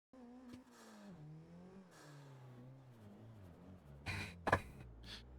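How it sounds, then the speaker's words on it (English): A car power-sliding as a novice learns to drift: a steady engine drone rises and falls in pitch, then a loud burst of tire squeal near the end, close and alone. "That was like a power slide, not a drift."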